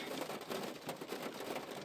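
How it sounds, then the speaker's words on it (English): Rain falls outdoors as a steady, soft patter and hiss, brief and fairly faint, with no voices over it. "It's raining."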